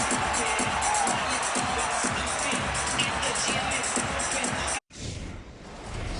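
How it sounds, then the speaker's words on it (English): The Madison Square Garden crowd roars during a Knicks 10-0 run against the Lakers in a 2012 NBA game. A continuous loud cheer runs under a commentator's voice, then cuts off abruptly, leaving quieter ambience. "listen to this Garden crowd on this 10-0 run"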